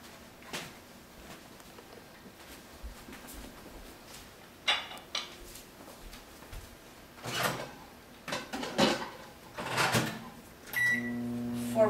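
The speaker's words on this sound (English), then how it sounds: "now we're gonna go ahead and put it in our microwave" A microwave oven heating an Indian fudge (penda/pera) mixture: soft handling noises, then several door clunks and button beeps, with a faint steady hum underneath and a rising beep sequence at the end.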